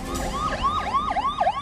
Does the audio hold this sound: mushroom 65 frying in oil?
no